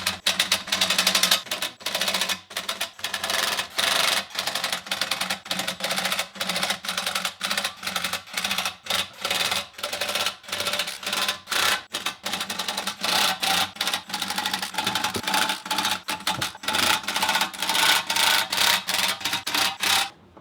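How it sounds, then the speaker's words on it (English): An impact wrench lightly runs in the bolts of a three-piece wheel one after another, giving rapid rattling bursts broken by short pauses, close and fairly loud, with no talking. "we're going to go around the wheel, circular motion, and just do basically like hand tightening it with the impact."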